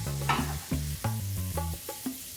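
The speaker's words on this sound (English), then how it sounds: "we're just gonna cook this, stirring every so often till the onions are really nicely tender and brown" Onions and potatoes fry in a pan while being stirred every so often, giving a steady close sizzle broken by repeated scraping strokes of the spoon, with no talk.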